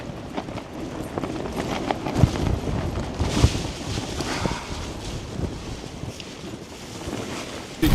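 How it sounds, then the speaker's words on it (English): Strong gusting wind buffets an outdoor microphone, a continuous roaring rumble with occasional sharper thumps and rattles, no voices heard. "not in this wind"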